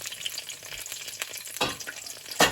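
Green plantains frying in oil in a pot on a stovetop, giving a steady low sizzle with occasional louder crackles and spatters, heard close with no talking.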